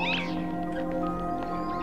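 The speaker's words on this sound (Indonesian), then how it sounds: "Terus ada suara meow meow meow." A cat meows in the video game Planet Alpha, one clear high meow near the start over a steady synthetic ambient drone with sustained tones.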